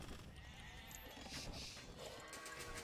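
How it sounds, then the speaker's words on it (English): Sheep in a medieval strategy game bleat faintly amid ambient battle noise, a few short calls rising over a low rumble. "Run, sheep, run!"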